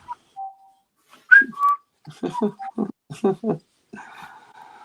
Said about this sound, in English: Oh, you gotta love whistling.